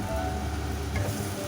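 Ol chingri curry of yam and prawns sautéing in a pan, giving a steady close sizzle with soft stirring, with no talking.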